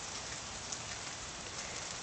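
Steady rain falls on a surface, a dense, even hiss of countless drops with no pauses, heard alone without talk.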